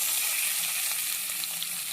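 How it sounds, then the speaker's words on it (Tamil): Cumin, curry leaves, onion and green chilli sputter in hot oil for semiya upma, with a steady, moderately loud close sizzle and faint stirring throughout. "லைட்டா சீரகம், கருவேப்பிலை, வெங்காயம், பச்சை மிளகாய் எடுத்து போட்டுக்கலாம்."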